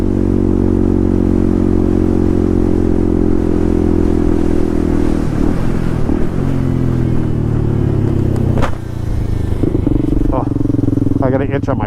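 A Honda Grom fitted with a CBR engine runs at a steady drone while riding, its engine note easing and shifting as the throttle is let off, loud and close with faint rattles.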